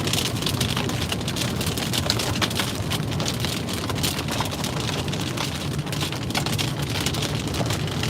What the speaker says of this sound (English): Get a little bit of hail, small hail in here.